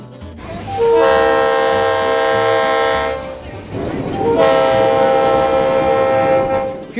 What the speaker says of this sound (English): If you're driving and you hear that sound, make sure you stop for the train.